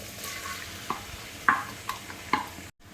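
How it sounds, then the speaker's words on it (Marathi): Chopped onion goes into hot oil with ginger-garlic paste for chicken biryani, giving a soft, steady sizzle with a few sharp spoon scrapes before it cuts off abruptly. "आता आपण ह्यात कांदा ॲड करणार आहोत"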